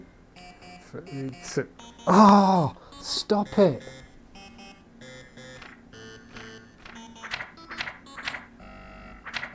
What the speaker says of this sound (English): Buzzer is simple.